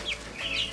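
Young backyard chicks give a brief pair of soft, high chirping peeps over a faint steady background.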